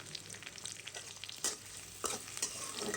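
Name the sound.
garlic frying in hot oil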